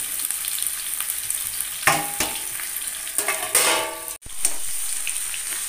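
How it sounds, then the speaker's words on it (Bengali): Taro stolons (kochur loti) frying in a pan, a continuous hiss of oil with louder sizzling bursts as pieces are moved, then a brief dip and the sizzle resumes. "আমি আগে এই কচুরলতিটাকে ভালো করে ভেজে নেব"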